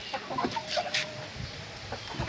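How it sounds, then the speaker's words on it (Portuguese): A young Indian Giant hen clucks nearby in a poultry yard, a few short soft clucks and chirps spaced irregularly over faint background noise. "uma franga de índio gigante, ela não ficou no tamanho muito bom, mas ela é índio gigante"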